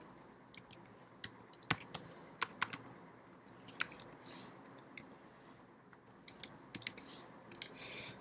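Someone types a script on a computer keyboard, producing quiet, irregular clusters of key clicks with short pauses between bursts, heard up close over a low background hiss and no talking.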